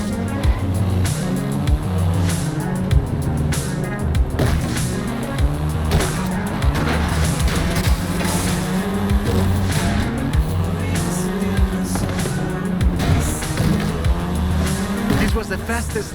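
A Volkswagen Golf R, the seventh-generation hot hatch, drives in Forza Horizon 5, its engine droning steadily and loudly throughout with rising and falling revs and shifting gears, close and continuous.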